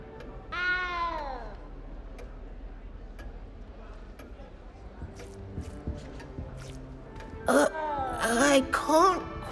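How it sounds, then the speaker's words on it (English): A cat in the video game Hogwarts Legacy gives a clear rising-falling meow near the start, then a few more strained meows and cries toward the end, with soft background noise and scattered clicks between. "You don't need to be frightened, little cat."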